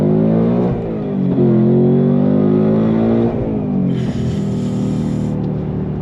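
A 2025 Ford Mustang Dark Horse with a naturally aspirated V8 and a Tremec 6-speed manual revs hard under acceleration, the loud engine note climbing in pitch, dipping at gear changes, then pulling up again.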